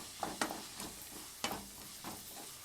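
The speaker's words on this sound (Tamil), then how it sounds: "தக்காளி அதுவும் ஒரு 1 மினிட்டுக்கு கம்மியாக வதங்கட்டும்." Tomatoes sautéing in a pan for green chicken curry, a faint sizzle punctuated by a few crisp scraping strokes of a spatula at uneven intervals.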